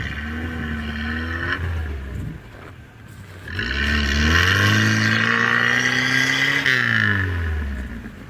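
A Lada Niva struggles through snow after a ditch. Its engine hums, dips briefly, then revs hard in a long rising and falling whine that holds for several seconds before easing off.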